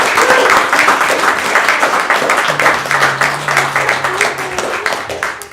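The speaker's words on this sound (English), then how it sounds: "Round of applause for the councilman." Steady applause from an audience at a city council meeting in Oak Harbor, welcoming a newly sworn-in councilman; a dense, continuous patter of clapping with voices murmuring underneath.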